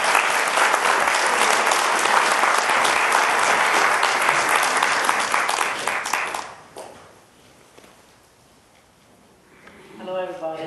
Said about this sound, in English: So please give a big round of applause for our Chorn-Pond.